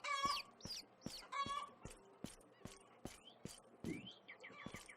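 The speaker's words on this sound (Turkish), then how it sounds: "Ana civcivler." Chickens and chicks in the video game Animal Rescuer cluck and peep in short, rapid bursts, a busy rhythmic stream of quiet fowl calls.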